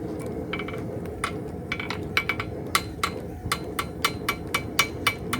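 Light hammer blows on soft copper over a clean anvil at a basic blacksmithing lesson, a steady run of sharp metallic strikes that speed up and grow louder, ringing over a constant low background rumble.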